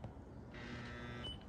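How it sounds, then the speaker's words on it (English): A steady electronic beep or buzzer tone sounds aboard a boat, holding for under a second against a constant low background hum, then cutting off. "And I don't know what that beeping is."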